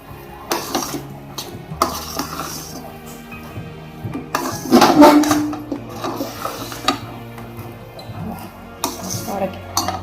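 A spoon mixing ghee into pineapple rava kesari, with soft scraping and scattered light clinks against the pan, one louder stretch of stirring midway, under quiet background sounds.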